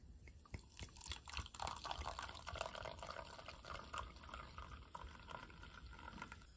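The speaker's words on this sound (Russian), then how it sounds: "Так, ну и теперь по 100 мл буду наливать в каждую бутылку." Homemade enzyme drink is poured into bottles in roughly 100 ml portions, giving faint trickling and dripping liquid sounds with small splashes, quiet and close, with no talk.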